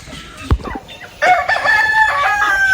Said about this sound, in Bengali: সুন্দর ডাকছে বাবা, অনেক বড় হয়ে গেছে মুরগিটা